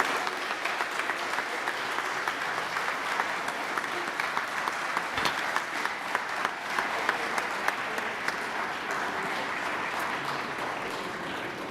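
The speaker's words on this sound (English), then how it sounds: "Can we give a massive round of applause?" An audience at an archaeological achievement awards ceremony gives a long, sustained round of applause, dense and even with scattered sharper claps, continuing for about twelve seconds without speech.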